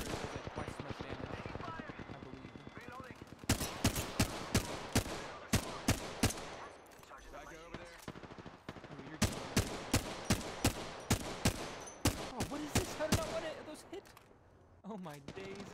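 Semi-automatic weapon fire in the video game Apex Legends, heard as loud, sharp shots in rapid clustered bursts with short gaps between volleys, set over a busy background of game sound.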